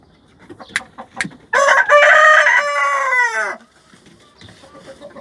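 An Indian breed rooster crows loudly once in a coop, a long strained call, with a few soft clucks and rustles before and after.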